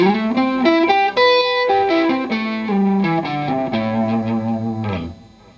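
An electric guitar plays a minor 9 arpeggio pattern starting on the fourth string, run through effects with slight distortion and chorus: a steady stream of clear picked notes that ends on a held tone that fades away.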